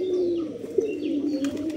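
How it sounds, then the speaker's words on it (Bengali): A male desi golla pigeon gives a low, throaty coo up close, one sustained rolling call with a short warble. A few faint chirps sit in the background. "নর কবুতরটা সেই রকমভাবে সেই লেভেলে ডাকতেছে"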